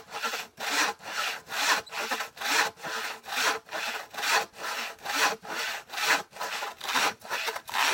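A hand saw rasps through wood in steady back-and-forth strokes, about fourteen even pulls at a brisk, regular rhythm, close and clear with no talking.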